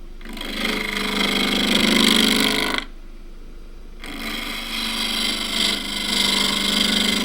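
A wood-turning gouge pivots into spinning wood on a lathe during face work, a continuous close rasping, shearing cut that stops for about a second, then resumes with slight variations in pressure.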